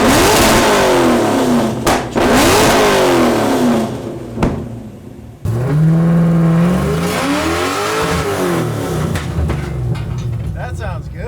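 A car with a modern exhaust revs hard and loud, up close, with rising and falling engine tones and several sharp bursts, while people talk over it.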